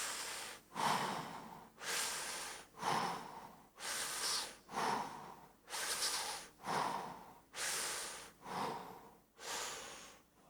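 A person takes deep breaths during a lower-back stretching exercise, about ten slow, loud, airy breaths close up in an even rhythm.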